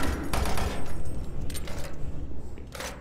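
Shotgun blasts in the video game Doom 3 come as a few muffled, booming bursts of gunfire over a busy game soundscape, at moderate loudness.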